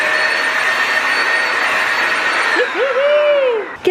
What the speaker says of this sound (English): this is also a vacuum.